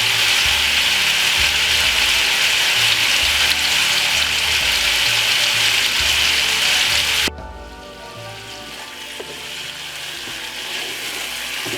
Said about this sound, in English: at the moment I'm just browning off the liver